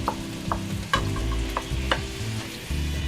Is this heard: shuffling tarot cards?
no